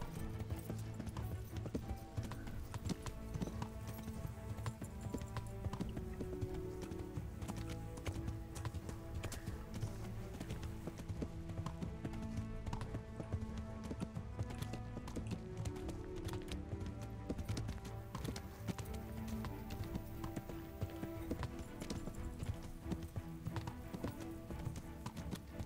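Hooves beat in a quick, steady gallop as a horse runs in a medieval combat video game, a continuous clip-clop rhythm at low volume from start to finish.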